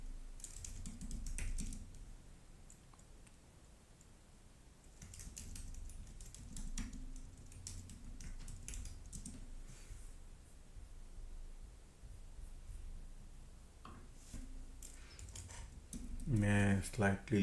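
Computer keyboard typing clatters in quick, irregular bursts of key clicks through the whole stretch, heard close over low background hum, with a brief louder rustle at the end.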